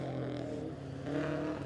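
A rally car from the Vilcos Motorsports team at the Overmountain Rally in Tennessee, at Newport Speedway, with an engine that drones and revs at moderate distance, lifting briefly toward the end.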